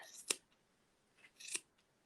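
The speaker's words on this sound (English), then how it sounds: "you can use your scissors and you want to cut all the loops" Two crisp snips of scissors cutting through yarn loops, about a second apart, close and fairly quiet, with a softer rustle between.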